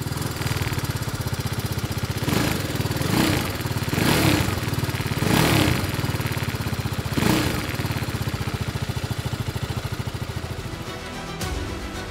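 A 2021 TVS Apache RR310 motorcycle engine and exhaust idling with a rapid steady thrum, broken by several short throttle blips that rise and fall, close and loud with no talking.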